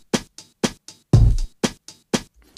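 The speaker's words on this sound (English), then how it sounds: "That's the waltz drum pattern." Drum machine waltz pattern in 3/4 time: a deep kick followed by two crisp snares, repeating in an even boom-tsk-tsk cycle, clean and close with no other instruments.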